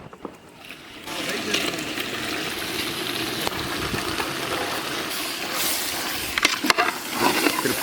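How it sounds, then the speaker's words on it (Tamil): Water is poured into a pot of washed goat head meat for curry in a village kitchen, giving a steady rushing hiss with faint clinks, close up and fairly loud, ending in a few sharper splashes. "கொஞ்சமா தண்ணி சேர்த்துக்கலாம்"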